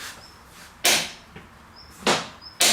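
Three sharp metallic taps of a hammer striking a screwdriver set in a seized screw on an Aprilia RS 50 scooter, evenly spaced and close, with quiet pauses between blows.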